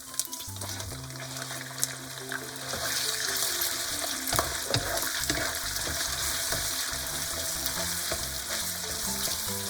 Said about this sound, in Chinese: 用力炒散瘦肉粒。